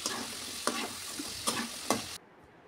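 Potatoes frying in oil for homemade French fries: a steady crackling sizzle with a few soft stirring knocks, cutting off abruptly near the end.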